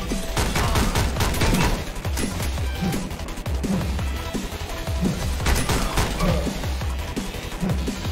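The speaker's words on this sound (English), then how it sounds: "I'm getting shot from behind." Sustained gunfire fills the Speed Limit demo, a rapid clatter of shots and impacts with crashes layered on a dense, busy game soundscape.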